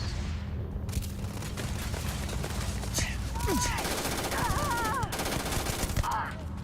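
Gunfire from a gun in the video game Starfield, fast repeated shots in sustained bursts under other game effects and chirping tones, with a short pause near the start and end.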